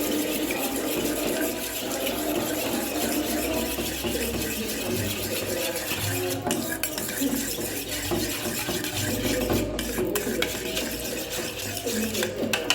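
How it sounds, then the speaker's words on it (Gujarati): Water is poured into a bowl of curd for dahi vada, giving a continuous splashing, stirring wash of liquid sound at close range that stays even throughout. "તો હવે થોડુંક પાણી એડ કરી દઈએ"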